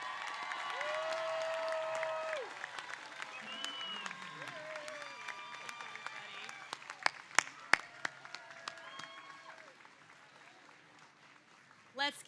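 A commencement audience applauds the graduating class of a physician assistant program in a broad, sustained wash of clapping that slowly fades over several seconds, with scattered louder claps and a few faint whoops beneath a distant amplified voice.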